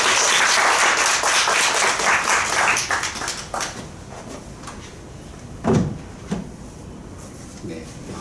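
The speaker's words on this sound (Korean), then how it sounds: "박수로 환영합시다" Church congregation applause welcoming a missionary to the front, a dense wash of clapping that fades within a few seconds and leaves a couple of thumps and quiet room noise.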